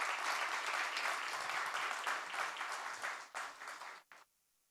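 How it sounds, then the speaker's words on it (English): Round of applause at a formal awards ceremony, an audience clapping loudly and steadily for several seconds before thinning out and stopping abruptly. "Please give a huge round of applause."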